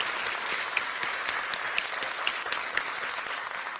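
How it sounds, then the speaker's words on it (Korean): A crowd at a Democratic Party political rally in Korea claps continuously, a dense, steady burst of applause with scattered sharper claps standing out, heard alone without talk. "다시 한번 큰 박수 부탁드립니다."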